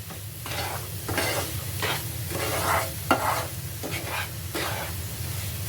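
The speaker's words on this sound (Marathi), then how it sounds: "परत मिश्रण व्यवस्थित ढवळून घ्यायचं आहे ह्याही मिश्रणाने" Amrut pak barfi mixture is stirred steadily in a pan, with a rhythmic scraping and soft sizzle repeating in strokes about every half second, close and continuous with no speech.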